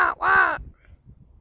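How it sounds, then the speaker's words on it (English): A single loud, harsh raven caw with a brief break, close by, followed by quiet background. "There's some pigeons and a raven showing off because they know me"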